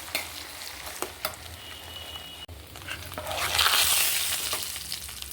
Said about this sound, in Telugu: పోపు కాలిపోయింది, బాగా ఫ్రై అయిపోయింది కదా